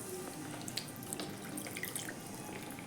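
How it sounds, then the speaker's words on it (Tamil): Half a tumbler of water poured into a pot of kalakkai pickle simmering on a stove, a short continuous splashing pour with small drips, close and alone. "இதில் ஒரு 1/2 டம்ளர் தண்ணி ஊற்றிக்கலாம்."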